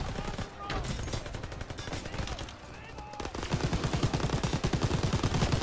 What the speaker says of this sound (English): Let's use the turret.